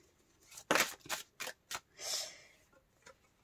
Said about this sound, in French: On va se tirer une autre carte avec l'oracle G.